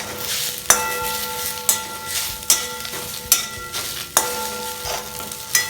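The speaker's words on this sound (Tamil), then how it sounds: "எல்லாம் வதங்கி சின்னதாக இத்தினுண்டு ஆகிடுது பாருங்கள்" Betel leaves and curry leaves sizzle softly in a pan for a Tamil betel leaf kuzhambu, with a spatula clacking and scraping against the pan about once a second.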